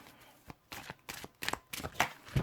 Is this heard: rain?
no